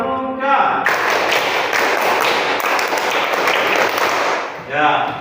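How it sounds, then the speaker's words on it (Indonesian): A third-grade class bursts into a rhythmic scout clap pattern, dense, loud patterned clapping from many children filling the room for several seconds, bracketed by a teacher's voice before and after. "Sekali lagi, biar semangat. Tepuk pramuka."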